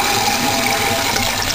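A toilet tank fitted with a water-saving device refills after a flush, a steady close hiss of running water with a faint tonal whine, constant in level.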